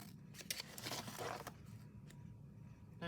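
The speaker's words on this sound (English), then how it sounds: "let me use these little scissors" Small scissors snipping washi tape, a few quick close crisp cuts in the first half followed by quieter handling rustle.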